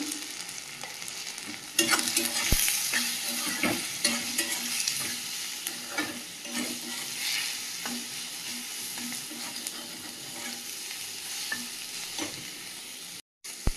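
Ground spices (coriander, cumin, turmeric) with salt frying in a pan, a continuous close sizzle with repeated scraping strokes of stirring and occasional utensil knocks, no talking.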